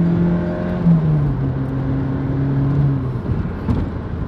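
A 1980s Ford Sierra RS Cosworth engine hums steadily from inside the car during a test drive, a close, even drone with gradual pitch shifts as it cruises, with no talking.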